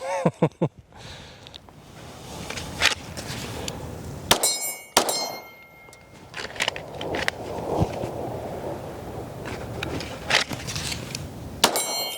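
Bullets from a Shadow Systems DR920 pistol strike a steel target, sharp metallic clangs and pings ringing out at irregular intervals over several seconds amid rustling and background noise.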